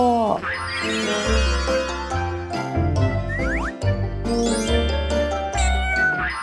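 A cat meows a few times, the brief rising and falling cries sitting over tinkling, jingly background music inside a home.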